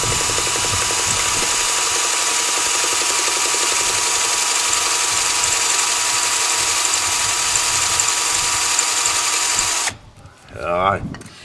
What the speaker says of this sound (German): Jetzt versuche ich mal mit einer Bohrmaschine, ob ich das hier frei bohren kann.